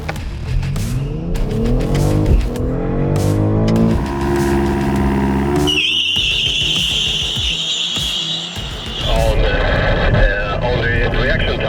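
A BMW XM 50e launches down a quarter-mile drag strip in Abu Dhabi, its engine note rising loudly through rapid upshifts. A high whine follows, then the car accelerates hard again, with talk running underneath.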